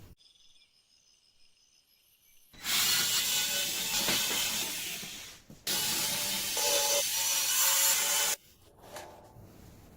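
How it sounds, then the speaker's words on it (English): Screws being loosened on the side panel of an oven that won't heat and trips the breaker: two sustained bursts of close, loud scraping and ratcheting from a driver, separated by short pauses, with no talk. "Let's take a look and loosen the screws up here."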